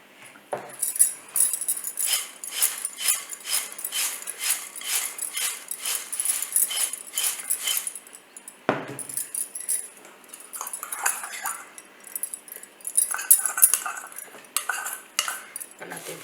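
A spoon scrapes and clinks steadily against a metal pan while sabudana mixture is stirred and masala is added bit by bit, with a short pause before the rhythmic stirring resumes, close and busy.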